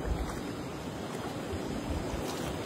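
Steady rushing water and wind as someone wades across a blue river, a continuous close wash of flowing current with no voices.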